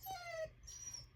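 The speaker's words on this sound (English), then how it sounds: "That's my dog." A dog whimpers softly nearby, two thin high whines drawn out over quiet room noise.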